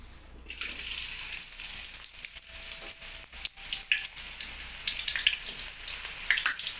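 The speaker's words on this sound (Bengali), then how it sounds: "কড়া গরম হয়ে গেছে, অয়েল গরম হয়ে গেছে, এখন আমরা পেঁয়াজ দিয়ে নিচ্ছি।" Onions dropped into hot oil in a heated kadai break into a steady, bright sizzle that carries on throughout, with occasional louder crackles and bursts.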